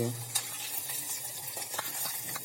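Dried onions sizzling in hot oil while tempering corn soup, a loud, close, continuous crackle with a few sharp pops and spatters over about two seconds.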